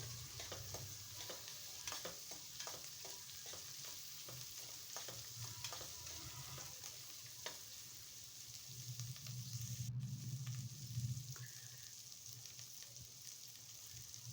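Garlic cloves and chopped ginger sizzle steadily in hot oil for mutton sambar, with a spoon clinking and scraping the pan at irregular intervals, close and fairly quiet, with no voices.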